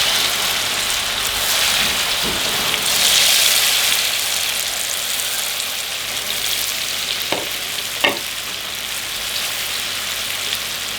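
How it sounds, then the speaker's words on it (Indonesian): Crispy spicy snack deep frying in hot oil, a steady broadband sizzle and crackle that swells briefly early on, with a few sharp pops near the end and no talking. "oke kita goreng minyaknya sudah panas"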